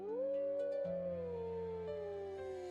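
A human voice imitates a wolf howling at the moon, one long sustained rising-then-falling howl lasting nearly three seconds, loud and close, with strong harmonic tone and a slight wavering pitch.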